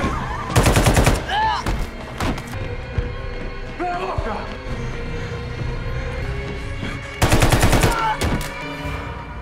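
Loud bursts of automatic gunfire from an action film scene, one rapid volley early and another near the end, with quieter thuds, movement and voices between them.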